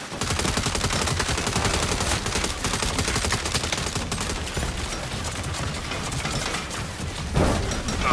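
Turrets in Saints Row (2022) fire continuously for several seconds, a dense, steady rattle of rapid gunfire loud throughout and layered under other game noise.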